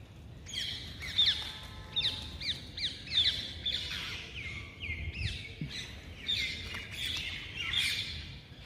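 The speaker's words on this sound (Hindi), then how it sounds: "चहकने की आवाज़ बहुत ही मनमोहक लग रही है सुनने में" Pigeons calling and chirping at Agra Fort, a busy run of repeated squawks and chirps close by, loud over a faint murmur of background crowd noise.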